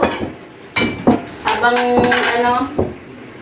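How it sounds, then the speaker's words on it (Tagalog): A plate set down on a kitchen surface during home cooking of laing, giving a few distinct ceramic clinks and knocks, with a ringing tone in the middle. "Naglagay na ako dito ng plato."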